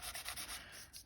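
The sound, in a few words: sandpaper roughing up thin alphanumeric stickers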